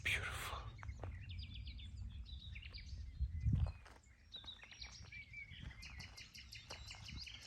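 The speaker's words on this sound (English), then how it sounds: "Just the birds, so beautiful." Small birds chirp and tweet outdoors in nature, several bright calls scattered throughout, faint to moderate and somewhat distant, over soft ambient noise with a few footsteps.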